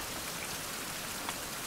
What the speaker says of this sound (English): It's still raining. I don't want to go out in the rain.